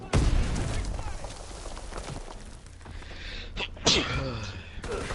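A single sharp sneeze from a player in a World War II online shooter, loud and close at the start, followed by continuous background game noise and talk.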